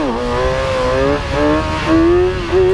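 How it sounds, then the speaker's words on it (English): A motorcycle engine revs hard as the throttle is yanked open during wheelie practice, its whining pitch climbing in repeated surges and dipping between them, loud and close throughout. "There you can see again me lumberjacking the shit out of the throttle"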